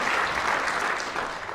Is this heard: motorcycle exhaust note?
no